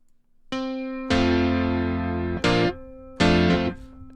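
A Yamaha CP70 electric piano run through effects plays a few loud sustained chords with a slight distorted, chorused edge, each struck chord ringing before the next, with no talking.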